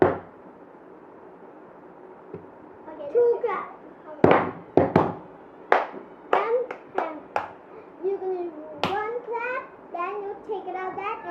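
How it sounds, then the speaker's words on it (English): Hands clapping in a children's counting game, with sharp distinct claps that come in pairs and are scattered among bright children's voices and adult talk in a quiet room. "Two claps."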